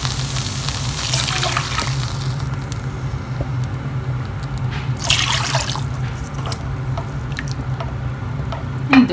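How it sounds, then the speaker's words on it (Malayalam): Two cups of water are poured into a pot of wilted drumstick leaves for soup, giving a close, steady splashing pour with drips and patter that fades and returns in bursts. "കപ്പ് വെള്ളം ഒഴിച്ചു കൊടുക്കുകയാണേ."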